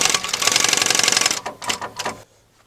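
Sewing machine stitching upholstery fabric for a bolster cushion: a close, steady whirring run that breaks into a few short bursts of stitching, then stops.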